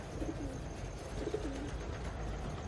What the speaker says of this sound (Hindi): कबूतरों की हलचल लगातार हो रही है